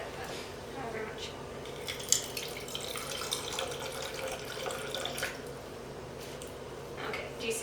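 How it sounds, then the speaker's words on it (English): Water runs and splashes steadily into a container for several seconds, a soft continuous trickle with a faint clink near the start. "now, pour the water into one of the cups"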